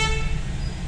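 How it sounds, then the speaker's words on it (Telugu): A car horn sounds in a short narrow tunnel, a loud held toot that fades within a second over a low rumble of engines and traffic echoing nearby. "ఇక్కడ కూడా హార్న్ ఇస్తున్నాడు."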